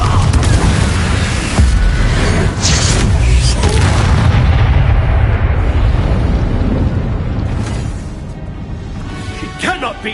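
A Confringo spell explodes in the video game Hogwarts Legacy with a loud, deep blast that rumbles and slowly dies away over several seconds, followed by faint clattering.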